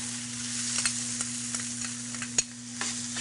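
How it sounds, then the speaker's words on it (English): Onions frying in olive oil in a paella pan over medium heat give a steady, close hiss and crackle with a low electrical hum underneath and a few faint clicks. "In the paella pan at medium heat, we're going to add the olive oil. We're going to add the onions."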